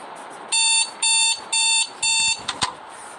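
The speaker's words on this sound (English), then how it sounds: "Yeah, with that alarm." An alarm rings in four quick, evenly spaced loud bleeps, followed by a couple of short clicks.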